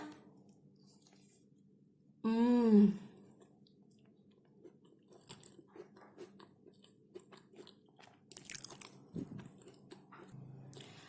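Crunchy bites and chewing of a crispy fried pastel pastry topped with peanut sauce, close to the mic: a loud voiced exclamation, then soft irregular crunches and chews with a louder crunchy burst near the end.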